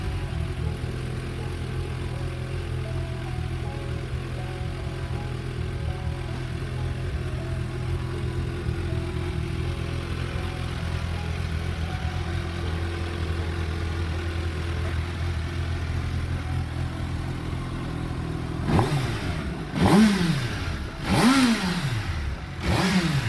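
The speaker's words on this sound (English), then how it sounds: "Today we're gonna give y'all a little sound of what a stock Hayabusa 2022 sounds like." A 2022 Suzuki Hayabusa with its stock exhaust idles steadily with a low, even hum for most of the stretch, then gives several sharp throttle blips near the end that rise and fall quickly.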